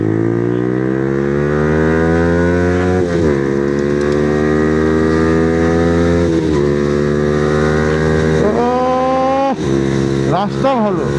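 A motorcycle fitted with an Akrapovic exhaust accelerates hard through several gears, each rising, tonal exhaust note cut by a brief dip at the shift, then rasps sharply as it sweeps past close by.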